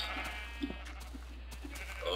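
Sheep in the video game Minecraft bleat in short, soft repeated calls over a low steady hum, fairly faint and with no talking.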